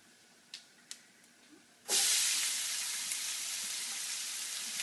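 Onions dropped into a hot pan burst into a loud hiss of sizzling that stays strong and steady, preceded by a couple of small clicks in quiet.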